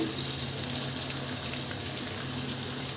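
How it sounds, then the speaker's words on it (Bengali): Chicken, garlic and chopped long beans fry together for fried rice, a steady close sizzle with a constant hissing wash and faint bubbling, no voices over it. "এখন আমি চিকেনগুলো এবং রসুনটাকে একটু ভালো করে ভেজে নেব"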